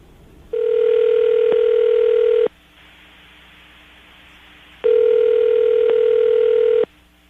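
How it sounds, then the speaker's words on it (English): A telephone line rings out while a call is being placed: two long, steady tones about two seconds each, separated by a quiet pause over faint line hiss. "we're going to dial the phone number right now, get her on the phone"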